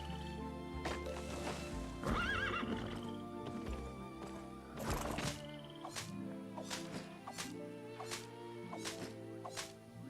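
A horse in the video game Albion Online whinnies loudly, followed by sharp chopping thwacks of a tree being cut and clattering hoof sounds at a steady pace.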